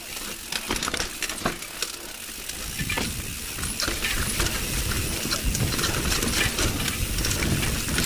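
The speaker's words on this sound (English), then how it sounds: "My spoke, you are making noise." Mountain bike ridden over rough park trails with a damaged spoke, steady rolling crunch of tyres on dirt and gravel with irregular clicks and rattles throughout, fairly close.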